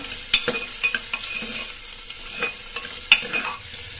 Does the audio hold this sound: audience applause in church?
no